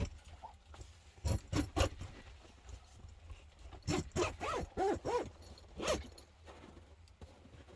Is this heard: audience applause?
no